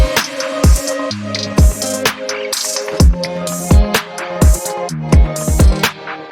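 Heavily compressed, distorted guitar in an indie pop production, chopped by a rhythmic trance gate into pulsing stuttered chords over punchy low drum hits, loud and dense with no vocals.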